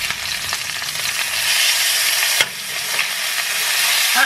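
Food sizzles and fries steadily in a hot pan just after being flipped, a dense close hiss with a brief clatter partway through.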